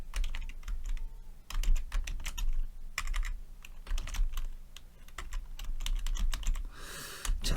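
Rapid keystrokes on a computer keyboard while Korean text is being typed, a close, steady patter of clicks that runs throughout with brief pauses and no voices.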